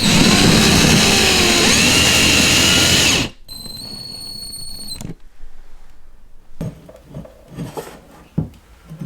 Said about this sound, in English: I start drilling those holes